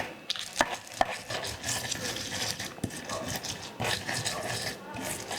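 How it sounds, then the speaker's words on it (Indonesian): Chili and shrimp paste with salt and sugar being ground by hand in a mortar and pestle for a Balinese seaweed dish, giving irregular scraping, grinding strokes and occasional knocks up close, with faint talk. "Kita akan ulek."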